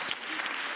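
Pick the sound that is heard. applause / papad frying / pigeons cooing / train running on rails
applause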